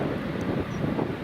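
A Ryanair Boeing 737 Max at Edinburgh Airport gives a brief, steady broadband jet roar with wind noise on the microphone and a faint voice beneath it.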